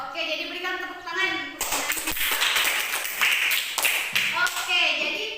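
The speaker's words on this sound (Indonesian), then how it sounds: "jadi berikan tepuk tangan" Classroom students clap together in a burst of rapid, overlapping claps during a civics lesson, after a teacher's voice and before speech resumes at the end.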